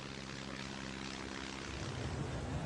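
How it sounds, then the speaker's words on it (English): A propeller-driven advertising plane drones steadily overhead, its engine hum loud and continuous with a low, even throb that swells slightly toward the end, with no voices present. "This particular object turned out to be an advertising plane"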